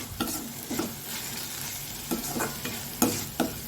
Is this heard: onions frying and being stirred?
yes